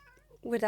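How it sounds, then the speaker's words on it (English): A cat meows once, short and fairly close, after a brief stretch of faint background noise. "if you can hear a cat meowing, that's because there is actually a cat."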